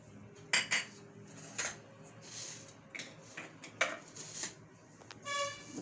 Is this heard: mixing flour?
yes